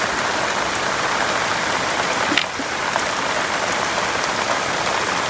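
Heavy rain pouring down in a sudden downpour, a dense, steady hiss of drops hitting surfaces all around, loud and unbroken throughout with no talk.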